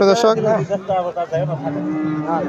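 Crossbred Friesian cattle lowing at a village cattle market, a loud, drawn-out moo with a wavering tone heard close, with faint crowd murmur behind.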